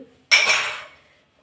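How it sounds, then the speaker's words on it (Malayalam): A single sharp clatter of dishes being set down, close and loud, ringing briefly before fading to quiet. "എന്നിട്ട് നമ്മുടെ പാത്രങ്ങളൊക്കെ ഇങ്ങനെ വെച്ചാൽ മതി"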